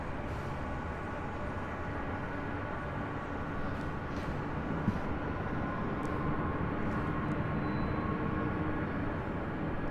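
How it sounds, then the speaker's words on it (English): An Emirates Airbus A380 landing at LAX, heard as a steady, broad jet roar that holds at an even level throughout, with a few faint clicks and ticks over the top. "It's Emirates, the A380 Super,"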